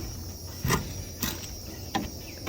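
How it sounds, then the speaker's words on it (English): Dry leaves crunch underfoot in four separate steps, close and crisp, over a faint steady insect hum. "just the sound of the leaves crushing underneath my feet"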